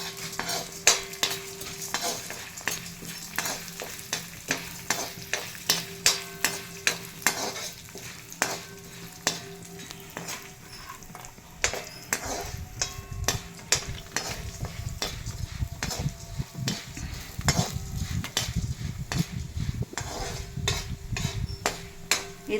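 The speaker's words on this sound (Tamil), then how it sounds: "கடலைப்பருப்பு, இது ரெண்டுத்தையும் நம்ம வறுத்து எடுத்துக்கலாம்." Chana dal roasting dry in a pan for tamarind rice powder, with a spoon scraping and stirring in steady repeated strokes, the grains rattling and hissing softly, the stirring growing busier and rougher in the second half.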